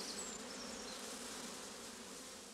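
Steady, dense buzzing of many Buckfast honey bees on a frame of queen cells, close and continuous, with a few faint higher whines passing over the drone.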